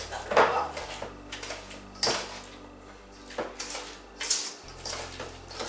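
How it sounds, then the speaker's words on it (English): A chilled egg gets mixed into oatmeal cookie batter in a bowl, with a utensil knocking and scraping against it in a few irregular clattering bursts separated by quieter stirring. "we're going to mix the egg that was chilled or well mixed into this batter as well"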